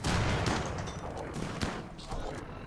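Gunfire in the video game RimWorld: a dense fusillade of overlapping shots bursting loudly through the whole stretch, with sharp cracks standing out amid continuous rattling.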